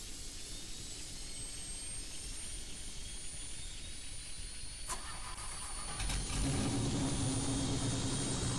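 A quiet idle hum gives way to a helicopter engine starting up in the Android game Helicopter Simulator 2021 SimCopter, rising into a louder steady whine and roar of a turbine spooling up.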